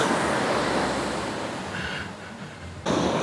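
Sea waves roll and wash steadily onto the sand at Bekal Beach in the evening, a broad loud surf roar with wind buffeting the microphone.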